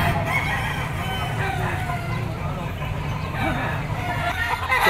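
Talisay yellow-legged straight-comb bull stag rooster at a Pasig pet market, crowing amid steady clucking and low market hubbub, close and fairly loud throughout.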